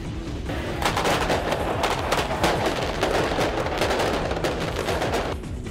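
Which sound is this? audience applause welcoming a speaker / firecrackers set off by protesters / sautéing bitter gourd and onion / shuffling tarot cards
firecrackers set off by protesters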